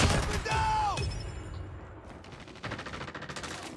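Bursts of rapid AK-47 automatic gunfire in a multiplayer shooter video game on the Crash map, loud and close, with a ringing mechanical echo between volleys and a second fast burst near the end.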